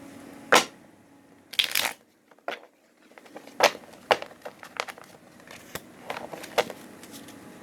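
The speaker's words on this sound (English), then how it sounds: "I do not have a neat way of shuffling" Loose, irregular riffling and slapping of cards being shuffled by hand, with scattered crisp flicks and pauses, close by and without talking.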